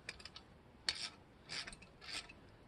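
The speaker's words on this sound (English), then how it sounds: "I think I'm actually going to have to loosen this nut up too." Wrench work on a nut of a 2023 Indian Chief Bobber Dark Horse exhaust, with three short metallic ratcheting, rasping bursts spaced about half a second apart, close and fairly quiet.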